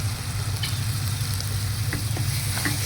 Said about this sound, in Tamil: இப்போ இந்த பாலக்கீரையை ஊற்றிடலாம்.